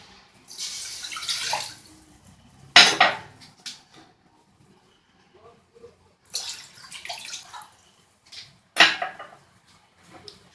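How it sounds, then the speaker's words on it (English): Water poured into a pan while making an eggless basbousa (Greek ravani), heard as a few short, close splashing bursts with faint clinks of cookware and quiet gaps between. "I will put the water."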